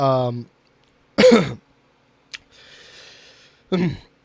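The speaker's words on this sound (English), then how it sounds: "really bad smoker's cough" A harsh, rasping smoker's cough in short bursts, separated by gaps, with a breathy exhale in between; close and fairly loud, no speech.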